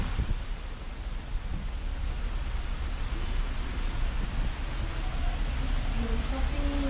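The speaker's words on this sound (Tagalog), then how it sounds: "lumakas yung ulan" Heavy rain pours near a cave in Sha Tin, Hong Kong, a dense, steady hiss of drops striking surfaces that holds for the whole stretch, close and loud, while people talk faintly at times.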